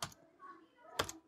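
Computer keyboard typing in a quiet room, two short bursts of clustered keystrokes at the start and near the end, close and fairly soft, with faint background noise between them.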